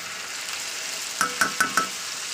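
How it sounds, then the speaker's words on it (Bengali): Spices with salt and turmeric frying in hot oil for an onion kalia dish, a steady soft sizzle broken by four quick clinks of a spoon against the pan, close. "তো এটাকে আমি ভালো করে এবার কষিয়ে নেবো, যাতে হলুদের গন্ধটা চলে যায়।"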